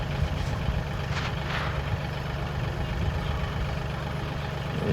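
A tractor engine idles steadily nearby, a loud continuous low rumble with a faint clank or two early on.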